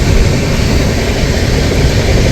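The 12343 Darjeeling Mail rushes along at speed, a loud, steady roar of wheels and rail noise with a constant heavy low rumble and no pause or voice.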